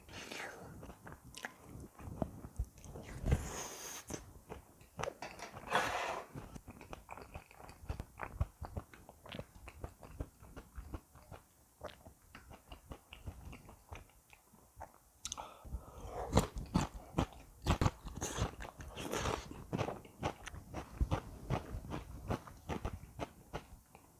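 Spicy jjajang noodles and boneless chicken feet are eaten up close, with repeated soft bites, wet chewing and slurps in an irregular rhythm that grows busier toward the end. Faint speech is barely present.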